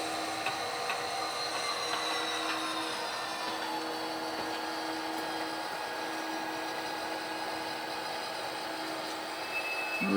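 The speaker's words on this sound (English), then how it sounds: "And then we'll have to pull the train back even a little bit" A local freight train is pulled back slowly during switching between two industries, a steady low mechanical hum and drone with faint metallic tones running evenly throughout, no talking.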